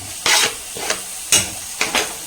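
Onions with rock salt frying in a pan, with four sharp scraping stirs over a low steady sizzle, close and clear, no voices.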